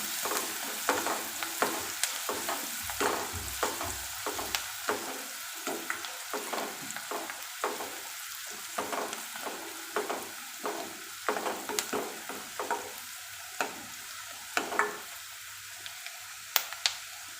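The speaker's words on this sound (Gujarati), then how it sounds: "હવે એને મિક્સ કરીને ગોલ્ડન બ્રાઉન થાય ત્યાં સુધી એને થવા દઈશું" Steady sizzling of onions frying in a pan until golden brown, with rhythmic scraping as a spoon stirs them repeatedly; no voices.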